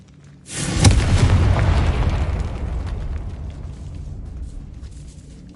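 Confringo spell explosion in the Hogwarts Legacy game, heard as one sudden, loud, close blast that rolls into a long, slowly fading rumble.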